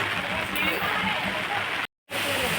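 Dense, steady rain hisses loudly and close at the Ekvira Devi temple, broken by a sudden brief gap of silence near the end before resuming.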